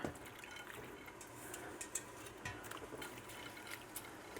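Blanched kale goes into a sink of ice water, giving faint, close splashing and dripping with a few small sloshes and no talking.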